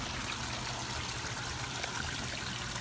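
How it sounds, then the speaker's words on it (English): Water drains back into a garden pond during a spring front-garden cleanup, giving a steady, even trickling and streaming wash that runs unbroken throughout at a moderate level. "hopefully now everything should just drain back into the pond and not drain backward"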